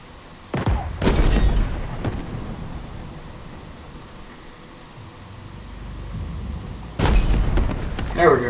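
Gunfire in Halo Infinite on the Spire mission, two sharp loud reports near the start and another burst near the end, with a low rumbling ambience between.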